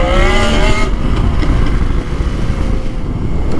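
A new 2023 Yamaha Tracer 7 motorcycle ridden through Paris, its engine loud and close with a rising tone early on that settles into a steady rumble mixed with wind and traffic.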